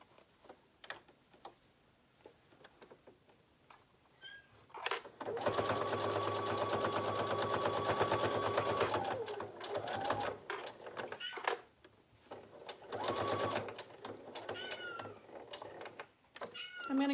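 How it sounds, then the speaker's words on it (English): A sewing machine stitches the sides of a fabric surgical mask in two bursts, a long steady whirring run followed by a shorter one, with quiet handling clicks between them. "I'm just going to sew both sides."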